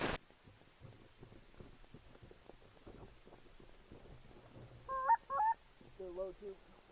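Geese flying low overhead during a waterfowl hunt let out a burst of loud, clear honks near the end, following a quiet stretch of faint background noise.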